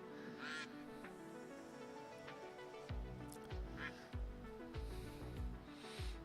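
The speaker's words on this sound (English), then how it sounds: "Your duck. He's quacking for you." A duck quacks in a short series of loud bursts, the calls coming in an uneven rhythm over steady tonal background music.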